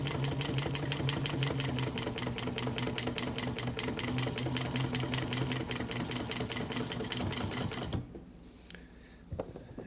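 A Juki 1541 industrial sewing machine with a parallel binder runs at a steady, fast, rhythmic stitching clatter for about eight seconds, then stops, leaving a few light mechanical clicks; no talking.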